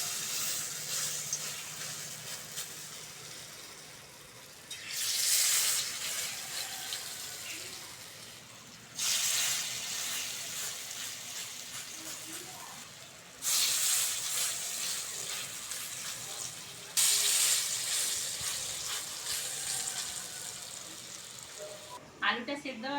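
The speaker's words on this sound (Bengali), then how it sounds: "বড়াগুলো ভেজে নেব।" Potato flower fritters fry in hot oil with a steady, close sizzle that swells into louder hissing bursts several times, while a person talks softly in between.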